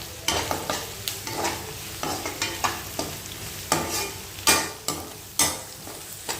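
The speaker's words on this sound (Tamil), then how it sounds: "இஞ்சி பூண்டோட பச்சை வாசனை போகிற அளவுக்கு நல்லா வதக்கிக்கோங்க" Ginger garlic paste fries in a pan for a tomato kurma, with rhythmic spatula scrapes striking every half second or so over a steady crackling sizzle, close up and with no voices.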